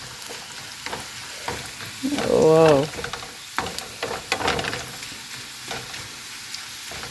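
A dal tempering fries in hot oil with a steady sizzle and stirring clatter, interrupted midway by a brief exclaiming voice.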